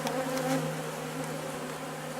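Agitated honey bees pour out of a freshly opened hive in a spring bee yard, a loud, steady, close buzzing drone that fills the whole moment without any voices.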